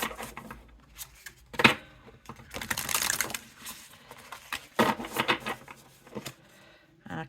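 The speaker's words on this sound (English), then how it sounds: "Shuffle's alright like that." Quick bursts of shuffling oracle cards, flicking and riffling in short bouts with pauses between, close by and fairly soft, with faint handling noise.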